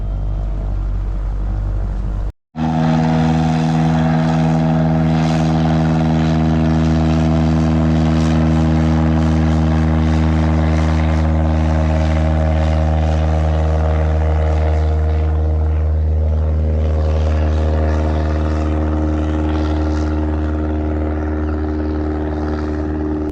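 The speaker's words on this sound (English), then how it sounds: "there's actually a seaplane about to take off right here" A seaplane on Lake Jessie revs its propeller engine for takeoff with a loud, steady drone that holds its pitch close by. The roar rises slightly and grows rougher as it powers across the water, with no talk.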